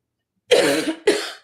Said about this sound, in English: Sorry, I got a tickle and I still have this cold. Still have this cough.